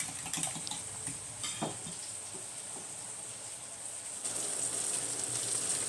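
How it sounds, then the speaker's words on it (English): A mixture is whisked until smooth on a Blackstone griddle setup: quick, light rhythmic ticking and scraping close by, steady and fairly faint against a hissing background. "we're going to whisk, whiskaroo until smooth"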